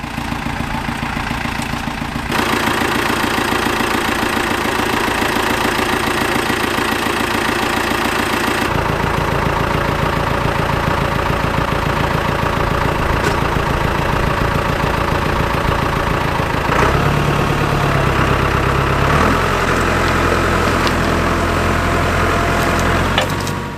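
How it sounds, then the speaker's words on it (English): A Ford 6710 two-wheel drive tractor from the early 1980s runs at a classic working event, its diesel engine chugging loudly and steadily nearby, with shifts in pitch and load as it works. "our first two-wheel drive tractor, a Ford 6710, built in Basildon"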